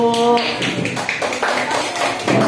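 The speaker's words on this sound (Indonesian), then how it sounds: "beri tepuk tangan kelompok 1" Classroom students clap for group 1 after a drawing presentation, a dense patter of hands with young voices chattering over it throughout.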